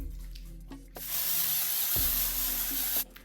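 Melanie Mills Hollywood Salt Super Light Long Lasting Setting Spray misted onto a made-up face: one close, steady hiss of about two seconds, after a few soft rubbing and handling sounds.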